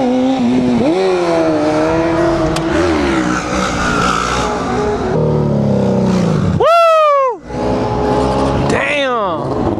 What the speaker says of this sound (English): I've never seen anybody with a touring bike do that.